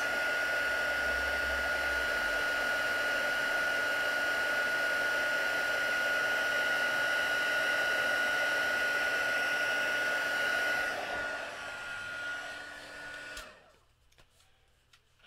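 A heat gun blows hot air to melt white embossing powder on a Christmas card, a steady close whooshing whine with a constant tone that runs for about eleven seconds and then winds down and stops.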